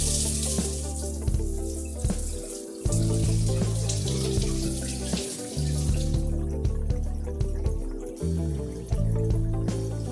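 Running tap water splashes over dyed silk samples being rinsed at a sink, a steady loud gush broken by repeated shifts and interruptions as the fabric is moved under the stream.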